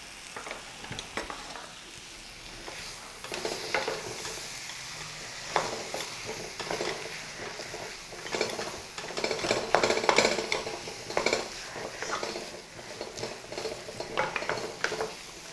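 Potato masala stirred in a pan for stuffed idli, an ongoing soft sizzle layered with repeated spatula scrapes and light metallic clinks, close and without voices.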